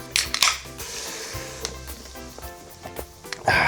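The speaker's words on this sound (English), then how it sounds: "And we stir" Chili being stirred in an Instant Pot after jalapenos, oregano, cumin, cayenne, tomato paste and beer go in: close scraping and crunchy stirring strokes in short bursts, with a faint sizzle beneath.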